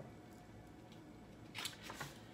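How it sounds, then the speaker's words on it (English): Cards being shuffled, a brief riffling burst near the end of a quiet, hissy room recording, with no talk. "Y'all see me shuffle these cards"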